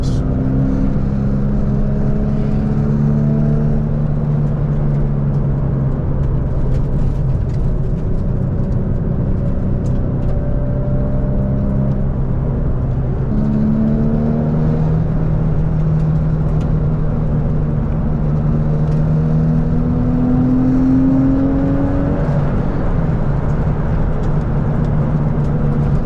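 A Porsche 996 engine drones steadily and close throughout a drive up the winding Angeles Crest Highway, its pitch rising and falling with shifts and throttle changes, with no talking.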